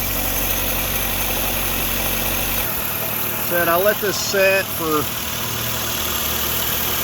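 A 2007-2013 Nissan Altima engine with a freshly replaced valve cover idles steadily and close, its running hum continuing throughout while someone speaks over it.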